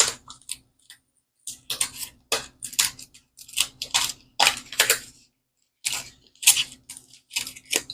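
Scissors cut open a package of printer paper with a quick series of sharp, close snips and rustles in irregular bursts, separated by short pauses.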